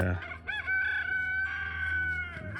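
A rooster crows loud and close, one long drawn-out call with a rising start and a sustained, wavering tail, heard alone in a farm paddock setting with a laying flock nearby.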